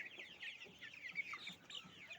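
Super hybrid Sonali chickens cluck softly in a flock at feeding time, a continuous chatter of short overlapping calls, fairly faint and close, with no talk.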